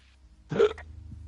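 A single short sneeze-like burst, fairly close and abrupt, in an otherwise quiet setting.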